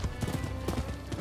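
In the video game Rise of the Ronin, horse hooves clip-clop in a quick, steady rhythm, close and fairly loud over background game ambience.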